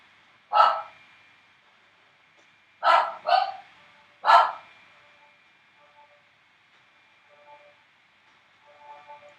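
A household dog barks close by in a loud single bark and then a quick double bark followed by another, before faint background noise takes over.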